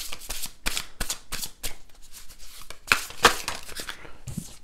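Tarot cards are drawn and laid out on a table, with brisk papery flicks and slaps in quick, uneven bursts, close and fairly loud, followed by a softer shuffle.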